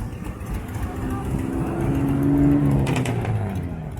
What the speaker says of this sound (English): Is that an RX-7? Here's an RX-7.